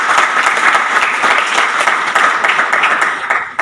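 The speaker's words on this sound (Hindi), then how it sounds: "मुझे लगता है कि रियली हमने नमन करना चाहिए और एक बार जोरदार तालियां बजानी चाहिए" An audience at an indoor women's wing gathering applauds loudly, dense continuous clapping from many hands filling the room throughout.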